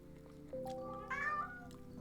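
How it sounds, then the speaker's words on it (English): A pet cat meows close by, one drawn-out call rising then falling into a second bending cry, faint room hum behind it and no one talking. "Kitty cat. He's there."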